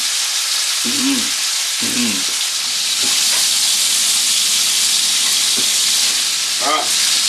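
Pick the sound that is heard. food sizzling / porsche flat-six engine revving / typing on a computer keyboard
food sizzling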